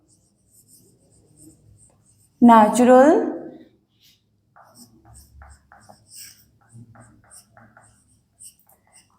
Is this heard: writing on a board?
yes